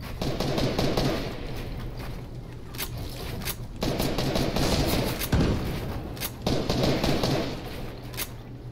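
Sustained video game gunfire, dense rapid automatic bursts and repeated sharp shots fired from above, loud and close, continuing almost without pause.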